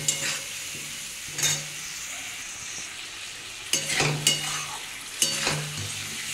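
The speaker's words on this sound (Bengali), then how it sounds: "ভালো করে কষিয়ে নিতে হবে।" Spices sizzle in hot oil for a Bengali fish curry with papaya, cucumber, okra and potato, with a steady close frying hiss and a few scraping stirs of a spoon against the pan.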